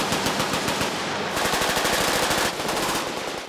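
Rapid, continuous machine gun fire at a large outdoor machine gun shoot, dense overlapping bursts close and loud with several guns firing at once, no talking.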